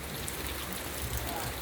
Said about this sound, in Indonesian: hujan teman-teman ya